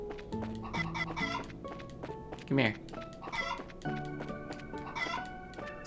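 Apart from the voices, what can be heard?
chickens clucking in video game Legend of Heroes Trails in the Sky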